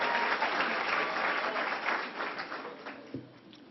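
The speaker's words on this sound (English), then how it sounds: "Let's give her a round of applause." Audience applause at a New York State bill signing for the John R. Lewis Voting Rights Act, a steady dense wash of clapping from a large crowd that holds, then gradually thins and fades toward the end.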